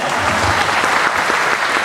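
Audience applause at a Janapada folk song program, a steady, dense burst of clapping from a crowd that fills the entire short moment without pause.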